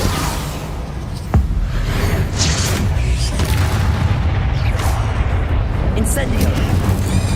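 Confringo blasts in Hogwarts Legacy give deep, booming explosive thuds over a dense, rumbling combat din, loud and close, with a sharp crack early on and a voice speaking over the action.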